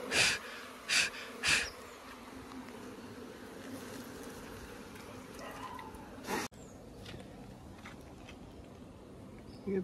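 Honeybees buzz around a beehive box outdoors in a steady, close hum that runs throughout, with a few louder rushing bursts near the start and a sharp knock partway through.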